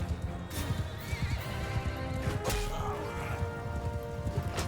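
Horse neighing amid a chaotic Mount & Blade II Bannerlord battle, whinnies rising over a dense din of clattering hooves and clashing combat, steady and fairly loud throughout with no clear talk.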